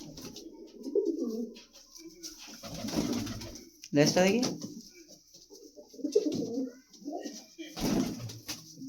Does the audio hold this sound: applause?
no